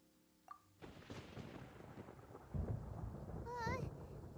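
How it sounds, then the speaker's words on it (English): Thunder rumbles through a storm in Genshin Impact, a low rolling boom building up and holding under a steady wash of rain, with a brief wavering game tone partway through. "Paimon hears thunder!"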